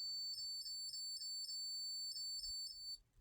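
An electronic ringing tone repeats in about eight short, evenly spaced bursts, clear and steady, with no talk, before it stops near the end.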